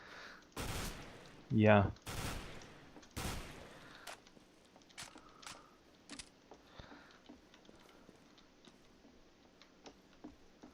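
Sawn-off shotgun blasts in Counter-Strike: Global Offensive, three loud close shots in quick succession near the start, then softer scattered game noises, with a brief spoken word from a player.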